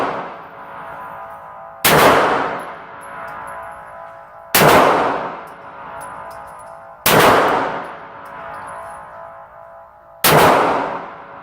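A handgun fitted with a red dot sight fires four loud, sharp shots at the range, each spaced about two and a half seconds apart with a ringing tail and a faint metallic ping after each report.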